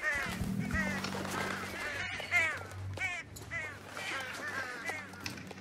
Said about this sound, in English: Why is there so many birds?